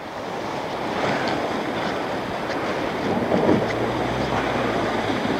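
A 2015 Land Rover Discovery Sport drives out of a river in snowy Iceland, loud churning water and splashing with wind buffeting, and a low engine drone rising toward the end.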